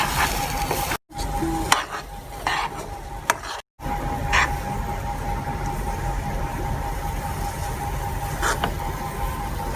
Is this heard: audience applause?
no